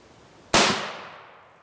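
A single loud rifle shot, a 7.62x39 or 300 Blackout firing FMJ ammunition, cracks sharply out of near silence and then decays over about a second into a fading echo.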